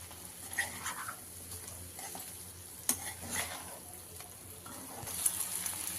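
Chicken fry vepudu frying and being stirred in a pan: a low steady sizzle broken by scraping strokes and occasional metallic clinks of a utensil against the pan, close and fairly quiet, with no talking.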